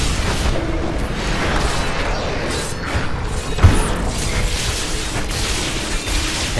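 Explosions in the action role-playing game Diablo 3 keep up a steady rumble of combat blasts, with one sharp, louder pop in the middle among thudding impacts.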